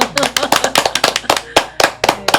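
Small group applauding Han Kang at a Korean culture talk, a short burst of sharp, distinct hand claps, close and uneven, with a little speech around it.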